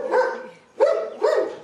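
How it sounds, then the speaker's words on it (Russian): A dog guarding lion cubs barks three times in quick succession, close and clear, with short gaps between barks. "Вы видели, как собака лает, когда трогаешь львят?"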